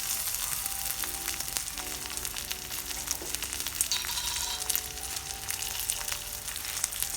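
Diced garlic sizzles in hot oil in a pan for a spinach lentil curry, with a steady, fairly quiet crackling hiss and a few faint clinks, no voices.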